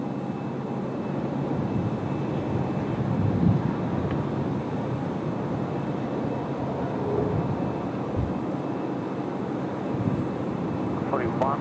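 A Qantas Airbus A380 approaching to land at Sydney Airport on a windy night, a steady broad jet roar with wind rumble that holds throughout, at a distance.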